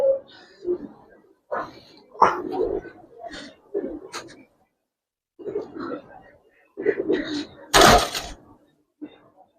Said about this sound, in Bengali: দেখেন অনেক ভালো ডাক নরের